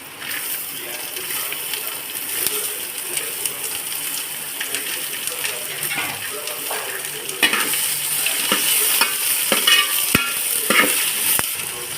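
Chopped onion stirred into a pan of frying coconut pieces, ginger and garlic, a steady close sizzle with scraping spoon strokes and occasional clinks against the pan that grow louder midway.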